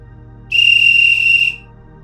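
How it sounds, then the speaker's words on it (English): A single long, loud, steady whistle blast used as a survival distress signal, sounding alone for about a second over a faint low background hum. "3 short blasts on a whistle is the universal stress signal"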